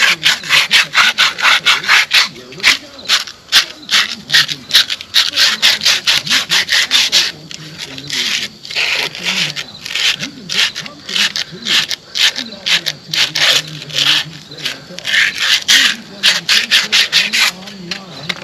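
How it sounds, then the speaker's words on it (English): Sandpaper scrubbing rust off a Grasshopper front mount mower deck blade spindle, rapid rhythmic back-and-forth rasping strokes close up, loud and sustained with short breaks, with a voice talking over part of it. "where we got the rust, I'm just going to take some sandpaper and"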